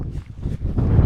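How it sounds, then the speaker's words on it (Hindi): Strong wind buffets the microphone and a tent on an open, treeless camping spot at night, a loud continuous rumble with gusts that surge toward the end, with no talking. "कितनी तेज़ हवा है भाई"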